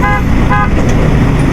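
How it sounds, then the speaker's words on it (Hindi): Two short car horn honks in quick succession from a vehicle on a crowded Indian road to Siddhpur, loud and close over steady traffic and engine noise. "मैं हॉर्न मार रहा हूँ फिर भी।"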